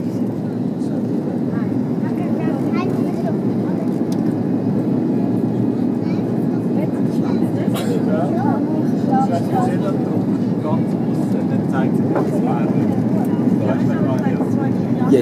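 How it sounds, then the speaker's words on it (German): An Air Berlin airliner on landing approach into Palma de Mallorca from Zurich, flaps being lowered and thrust pulled back, heard as a steady broad engine and airflow roar inside the cabin with someone talking over it. "Jetzt lässt er die Landeklappe neben. Und mit dem Schub geht er zurück."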